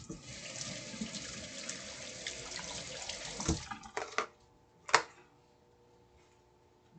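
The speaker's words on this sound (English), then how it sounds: "Clean again with soap and water." Hands washed with soap and water at a sink: running tap water and splashing under a steady rush, then the flow stops, leaving a few knocks and drips.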